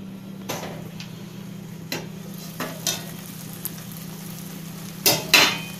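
Tomato masala for tomato rice sautéing on a low flame, a soft steady sizzle and hum underneath with a handful of spaced spoon taps and scrapes against the pan, the last two louder and close.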